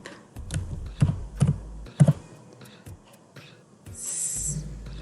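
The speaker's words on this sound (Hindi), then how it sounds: "आपने टाइप करना है सबसे पहले DISM/online" Keys on a computer keyboard are tapped in short, uneven bursts while entering a DISM command in Windows, the clicks close and crisp with pauses between them and a faint voice at moments.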